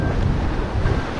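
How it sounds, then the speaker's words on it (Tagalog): Strong ocean waves surge against the shore of Higatangan Island, a continuous loud roar of surf mixed with heavy wind buffeting the microphone, with no voices. "Grabe yung alon."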